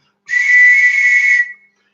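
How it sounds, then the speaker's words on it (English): A single loud, shrill whistle blast held steadily for over a second, then cut off, with silence before and after. "if you've got any sorts of whistles at home, this is to make a good noise"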